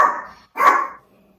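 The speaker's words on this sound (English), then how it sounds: "sorry about that, a dog had a fit here" During a worship service, a dog lets out two barks, a shorter one and then a louder, fuller one half a second later, close by and with no one speaking over them.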